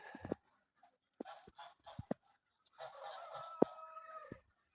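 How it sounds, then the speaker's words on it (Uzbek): Chickens in their coop cluck in short, irregular bursts with pauses between, then give a longer, louder drawn-out call near the end; close and clear, with no talking. "Tovuqimiz o'zini qo'nog'ida."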